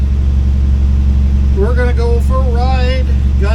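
A car engine idles with a steady low rumble that never changes, close by, while a voice talks over it partway through.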